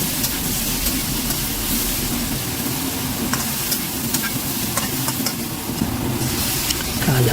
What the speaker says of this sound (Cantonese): 將佢炒一陣